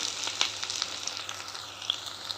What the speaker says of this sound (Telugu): ఇప్పుడు బెండకాయలు వేసుకున్నా బెండకాయలు బాగా వేయించుకొని